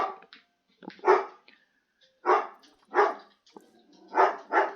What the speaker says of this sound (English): My dogs, if they see anyone walking up the road, they've got to bark.